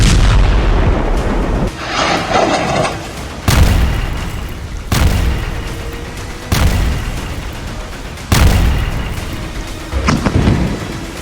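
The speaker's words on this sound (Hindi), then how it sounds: "इजरायल के तूफानी हवाई हमलों में बमों के धमाके" A series of heavy, booming airstrike bomb blasts hitting buildings, about six of them spaced a couple of seconds apart, each with a long rumbling decay; no talking.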